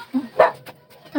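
Bobby, a pet dog about to be bathed with homemade shampoo, lets out a few short, close barks and yips. Between them there is whimpering and a human voice.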